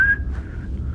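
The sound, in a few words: person imitating someone whistling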